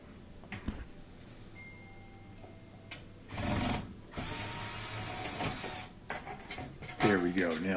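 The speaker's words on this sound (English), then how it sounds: "A couple more screws there to take out." A power drill backs screws out of a GE portable dishwasher, with two short bursts of whirring among quiet handling noises and faint background sounds.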